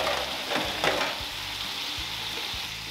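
Vegetables sizzling in a skillet with ginger and garlic, a steady close frying hiss with a few soft stirring scrapes and taps throughout, no voices.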